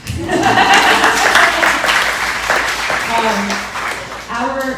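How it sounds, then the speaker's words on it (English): An audience at a county and state candidate forum claps in a steady, dense burst of applause that fades slightly toward the end, with voices speaking over it. "yeah, we can clap."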